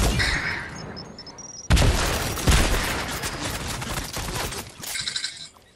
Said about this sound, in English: Tactical shotgun, you all shall die. I shall shotgun you.